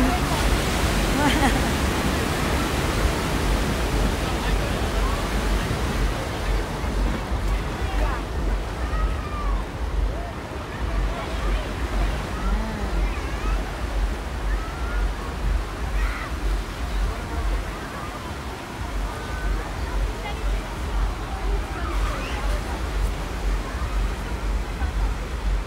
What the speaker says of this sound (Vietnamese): Ủa có sóng luôn.